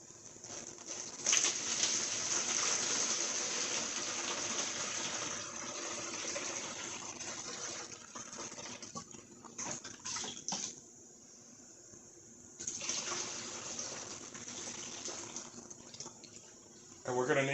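Water from a flushed 2012 Chrysler 200 3.6 heater core, a no-heat fault, pours steadily into a small strainer. A continuous rushing gush is broken by brief lulls, and someone talks over it in places.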